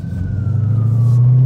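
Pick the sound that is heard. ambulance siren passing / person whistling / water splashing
ambulance siren passing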